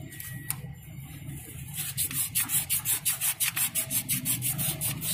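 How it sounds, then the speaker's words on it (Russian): Sandpaper scrubbed back and forth over a Toyota RAV4 radiator hose to smooth away corrosion, a close, steady rhythmic rasping of quick regular strokes after a quieter start. "Сейчас наждачка снимет все оставшиеся коверночки."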